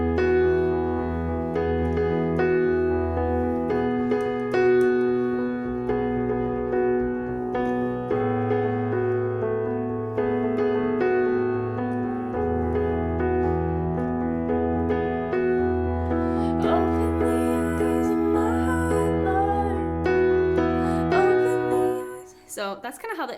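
Piano playing the bright, joyful introduction of a worship song, with steady rolling chords and a melody over a full, continuous accompaniment, loud and close throughout.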